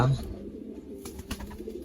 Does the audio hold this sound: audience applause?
no